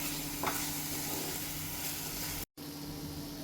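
Tomato pieces frying in hot oil with fenugreek leaves, giving a steady close sizzle with occasional stirring scrapes and a brief dropout near the end.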